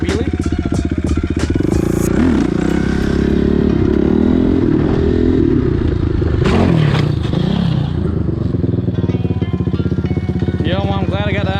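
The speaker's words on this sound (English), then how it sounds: "Do a slow wheelie here." A motorcycle engine revs hard and steadily during a slow wheelie at night outside a well-lit building. The revs drop abruptly partway through amid clattering and scraping, then the bike settles to a lower, uneven engine sound.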